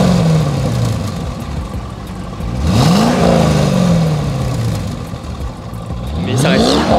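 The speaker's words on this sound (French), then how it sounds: "Je te propose de démarrer la voiture." A Chevrolet Corvette C5 with a 345 hp V8 engine starts with a cranking whir and catches, then settles into a steady, fairly soft idle with a couple of brief revs. The sound is close and loud, with no talk over it.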